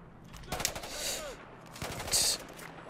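Battlefield 4 gunfire: two short, sharp bursts of automatic fire about a second and a half apart, moderately loud, with a faint voice-like tone between them.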